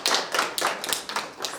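An audience claps hands at a promotional event for a Zimbabwean music show, a quick burst of several close overlapping claps with no talking.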